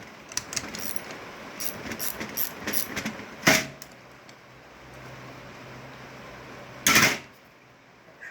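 Scattered ratcheting clicks and two sharp metallic clanks while bolts are tightened on a Peerless 1000 transmission being reassembled for racing, close and moderately quiet, with pauses between the tool sounds.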